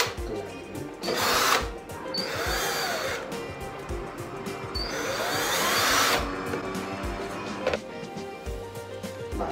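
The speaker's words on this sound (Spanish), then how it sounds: "Ahora lo que voy a hacer es un pequeño agujero con..." A power drill bores a small hole in a moose antler, with two rising whirring bursts of a couple of seconds each and the bit grinding into the antler, close by amid light handling noises.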